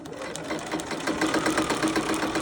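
A sewing machine stitches blazer pocket lining to the other pocket piece, a close, steady rapid chatter of the needle running continuously with slight swells in loudness.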